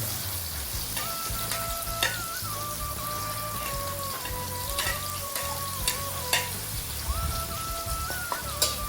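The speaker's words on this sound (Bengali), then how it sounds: "এখন এখানে গরম হওয়ার পর পেঁয়াজ দাও" Onions frying in hot oil with a steady crackling sizzle and occasional spatula clinks, beside a faint tonal whine in the room.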